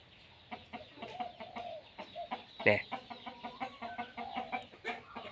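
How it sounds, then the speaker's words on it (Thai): A rooster crows close by behind a chicken coop, one loud call cutting through steady clucking and fowl chatter that runs throughout the clip. "หลังเล้าไก่ นี่มาขันใกล้ๆ เนี่ย"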